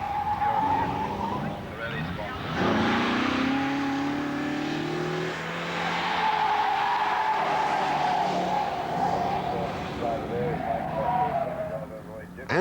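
A Lancia Flavia Zagato races a slalom test at Lydden Airfield, its engine revving and tyres squealing loudly through the turns, with a commentator talking over it.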